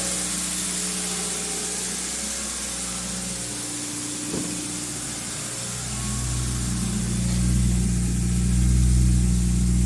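A 2000 Toyota Celica GTS engine idles steadily with a fairly high hum at about 1800 RPM when warm, a high-idle fault, the drone growing louder and fuller toward the end; a brief click sounds midway.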